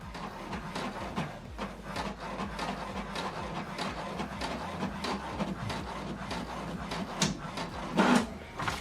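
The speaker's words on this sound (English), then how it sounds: "This is to show you that this printer is working" An HP Deskjet 2800 inkjet printer printing a page, giving a steady mechanical whir and rubbing feed noise with periodic clicks and a louder clunk near the end, heard close and alone.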